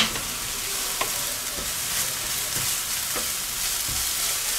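Minced meat frying in oil in a pan, a constant hiss of sizzling fat with occasional soft knocks from stirring, close and without talk.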